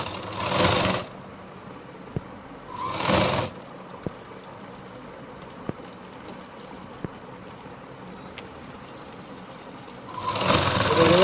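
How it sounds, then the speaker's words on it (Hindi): A sewing machine joins the back seam of a ladies' pant in three short bursts of whirring, with scattered faint clicks and quiet handling between runs. "बैक की तरफ को हमारी सिलाई चल रही है"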